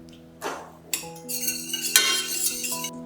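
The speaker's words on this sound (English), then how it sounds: "Remove the pan from the heat and whisk in the gelatin." A whisk scrapes and clinks briskly against a metal pan, whisking gelatin into a hot mixture off the heat, quick strokes up close, with no voices.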